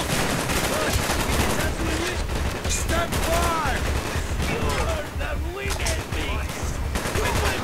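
Makarov pistol gunfire in Call of Duty Black Ops, a dense stream of loud, close shots over constant battlefield noise, with no pauses in the din.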